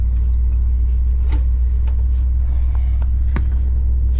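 A 1981 Chevy truck with an engine, idle for 20 years, runs with a loud, steady low rumble close by, with a few faint clicks and knocks over the constant drone.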